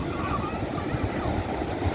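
Steady broadband rush of surf at Suwuk Beach, Kebumen, waves rolling and breaking continuously at moderate distance, with low rumbling wash and light wind noise.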